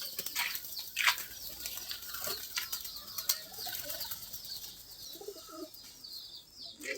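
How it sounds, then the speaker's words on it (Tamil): Crested male pigeons flap their wings in bursts, with soft cooing and chirps nearby, against a faint outdoor background. "அருமையான புறா எல்லாமே."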